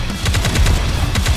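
Rapid automatic fire from the AZX gun in the mobile shooter Goddess of Victory: Nikke, a loud, close burst of evenly spaced shots.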